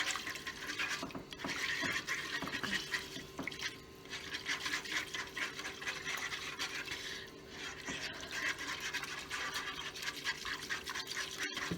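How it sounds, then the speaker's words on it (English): A whisk moves a ham and cheese pasta sauce around in a pan on the stove, making continuous quick scraping and swishing strokes with a wet, rhythmic texture, close up and moderately loud, with no talking. "I'm going to take my little whisk here to help a little bit, and we're just going to whisk around in the pan just for about a minute."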